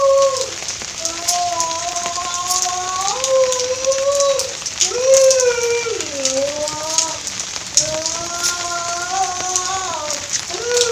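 Steady rain hisses across the whole clip over a garden of amaranth greens, while a voice calls out in rising and falling tones over it.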